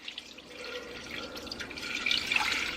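Tap water running and splashing into a cooking pot over whole chicken and celery, a steady trickle that grows fuller and louder toward the end, with no voices.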